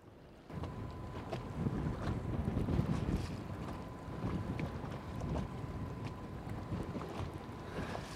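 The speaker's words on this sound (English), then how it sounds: "Wind's blowing like heck, blowing right over a reef" Strong wind blows across Bartlett Lake, Arizona, on a summer afternoon out fishing from a boat: a steady, loud broadband roar with microphone buffeting and gusty swells, plus a faint thin tone running through it, with no voices.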